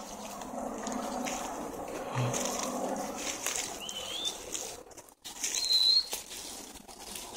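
During a hunt, a bird flaps its wings in soft repeated bursts of fluttering over a busy outdoor background. A couple of faint chirps and a brief dropout are also heard, with no clear speech.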